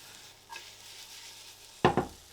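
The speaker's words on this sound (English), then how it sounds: "So mix it all together, get all those flavours mixed up" Kung Pao chicken ingredients tossed in a hot pan, a low sizzle followed by two sharp scraping stirs near the end, with no one speaking.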